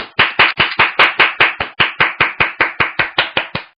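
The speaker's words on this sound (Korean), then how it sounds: "여러분 모두 크게 한 박수 한번 주십시오." An audience clapping in unison to welcome a lecturer at a job-hiring trends talk: about sixteen loud, sharp claps in a steady even beat, close and with no talking over them.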